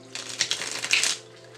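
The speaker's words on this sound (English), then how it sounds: "Let me just get these shuffled up." A quick riffle of cards being shuffled, a rapid papery flutter lasting about a second before stopping.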